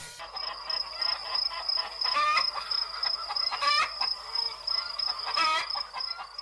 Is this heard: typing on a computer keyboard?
no